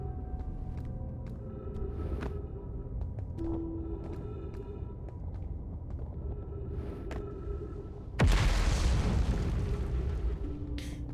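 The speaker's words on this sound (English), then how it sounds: "Just keeping you on your toes every now and then with those explosions." A sudden loud explosion in the space exploration game Outer Wilds bursts out of a quiet ambient soundscape of soft tones, then leaves a broad rumbling roar that continues to the end.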